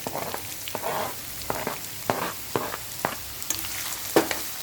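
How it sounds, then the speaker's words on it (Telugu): Chopped carrots frying in oil with curry leaves and dried chillies, a steady close sizzle broken by scraping stirs, with no voice over it. "సో క్యారెట్ అనేది వేగడానికి కొంచెం టైం పడుతుంది కాబట్టి బాగా ఇలా వేయించుకోవాలన్నమాట"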